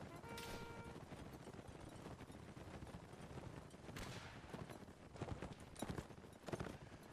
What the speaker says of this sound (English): out come the cavalry. They're back on the horse.